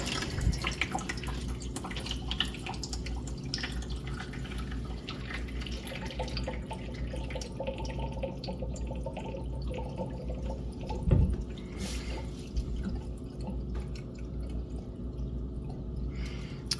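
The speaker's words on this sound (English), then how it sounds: "looks like the water is just about done dripping there." Slow, sparse drips of water fall from an ice maker drain against a steady low mechanical hum, with one slightly louder splash partway through.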